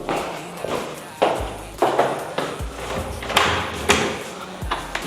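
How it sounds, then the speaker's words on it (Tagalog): A house door is opened with several thuds and clunks, sliding and knocking sounds recurring at irregular intervals, close by with little else around. "Buksan muna natin yung pinto."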